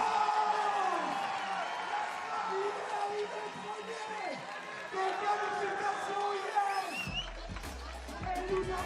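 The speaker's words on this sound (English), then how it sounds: "The crowd is loving it." A large crowd roars, whoops and cheers continuously at a men's freestyle parkour final, loud and sustained, with excited shouts rising and falling throughout.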